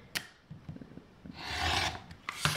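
Fabric for a quilt block being trimmed along a sewn seam line, heard as short close rasping cuts followed by a longer, louder scraping stroke and another brief cut, with no talking.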